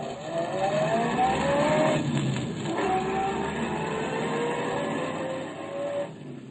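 Old-time radio sound effect of a car driving away, with an engine note that rises in pitch and then shifts gears as it pulls off, heard alone and at moderate volume.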